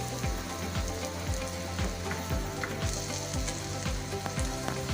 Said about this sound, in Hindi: ये पक रहा है हमारा पराठा